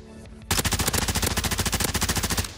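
Rapid automatic gunfire in the Warzone video game from a glitched Tempest Razorback, bursting in after a quiet half-second and hammering on in a fast, steady rhythm, loud and close.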